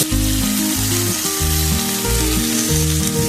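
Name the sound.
potatoes frying on a griddle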